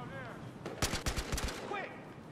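An AK rifle fires in rapid bursts in Battlefield Hardline, a cluster of sharp, loud cracks across about a second, with game ambience and faint chirping effects around them.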